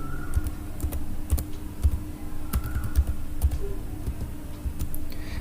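Aadhaar card number being entered on a computer keyboard, a steady run of close, crisp key clicks with a few sharper taps over a faint room hum.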